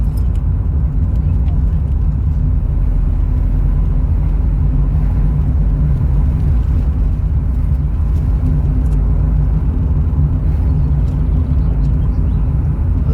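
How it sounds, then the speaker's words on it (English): A car driving along a road at about 22 miles an hour, heard from inside as a loud steady low road and engine rumble throughout, with a voice talking over it. "Car is doing 22 miles an hour."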